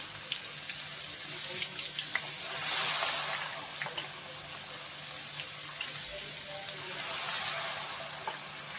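Ghevar batter spooned into the center of hot ghee foams and bubbles with a continuous fizzing crackle, steady and moderately close with small pops, no talk.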